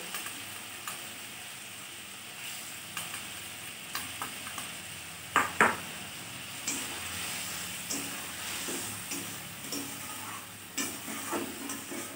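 Spice masala with potatoes cooking for a spicy tilapia fish curry, a quiet steady sizzle in the pan with scattered soft taps and scrapes of a spatula and one brief louder clatter.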